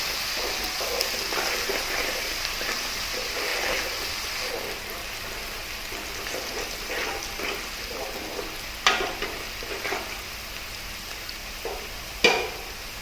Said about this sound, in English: Now add 2 green chilies and saute for another couple of minutes.